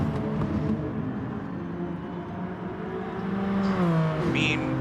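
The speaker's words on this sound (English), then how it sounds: "he's shifting almost all the way up the rev limiter" A Hyundai race car engine in a racing game drones high near its rev limiter, a sustained buzzing tone that rises and dips with a quick shift-like drop, loud and steady throughout.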